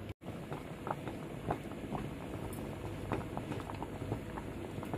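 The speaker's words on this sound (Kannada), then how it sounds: "ಈಗ ಚೆನ್ನಾಗಿ ಕುದಿತಾ ಇದೆ ಕೆನೆ ಗಟ್ಟಿ ಕುದಿತಾ ಇದೆ" Moong dal saaru boiling in a pot with a ladle left inside, a soft continuous bubbling and popping, faint and close, with no voices.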